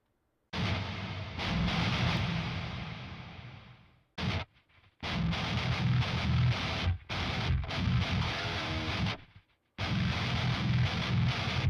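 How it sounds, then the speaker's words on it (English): Distorted electric guitar track soloed from a multitrack recording, playing alone, loud and dense, with abrupt stops and gaps between phrases before resuming. "I'm going to solo this guitar track out."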